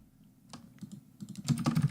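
Plastic keyboard keys are tapped close up in a short run of crisp clicks that grow denser and louder toward the end.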